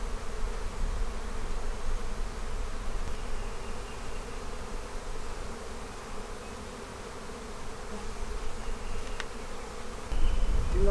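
A dense swarm of honey bees buzzes in an open hive packed with honey and nectar, a loud, continuous droning hum from start to end with a brief louder rustle at the close.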